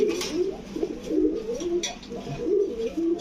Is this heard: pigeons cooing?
yes